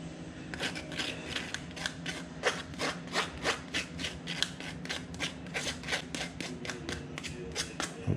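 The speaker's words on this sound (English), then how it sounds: "We get the meat a rub down." Seasoning paste worked by hand onto a Cuban pork roast, a steady run of short, close, moist rubbing and slapping strokes in an even rhythm with no talk.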